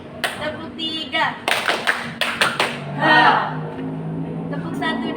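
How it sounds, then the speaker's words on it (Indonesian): Schoolchildren in a group session clap in bursts, several sharp, slightly unsynchronized handclaps close by, with a voice speaking in between. "Tepuk 3."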